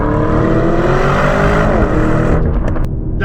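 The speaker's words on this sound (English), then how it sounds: "Second gear pull." A Lamborghini Urus accelerates hard in second gear, its engine a loud, continuous rising roar close by that cuts away abruptly near the end.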